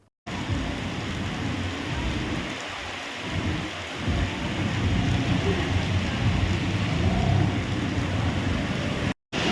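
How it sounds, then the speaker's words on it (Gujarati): A heavy downpour roars steadily and loudly, with low thundery rumbling underneath and short gaps of silence at the start and end. "ધોધમાર વરસાદ વરસ્યો છે"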